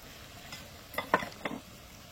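Green chili and raisins stirred in a hot pan for a sweet dish, a few quick scraping strokes over a faint sizzle, with no talking.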